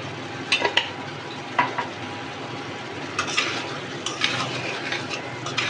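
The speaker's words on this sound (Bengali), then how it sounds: "ভালো করে নেড়ে চেড়ে মিক্স করে নিব" Cumin and coriander powder stirred into frying spices in a pan for a ridge gourd and shrimp curry: a low sizzle under intermittent spatula scrapes and clinks against the pan, close, with no voices.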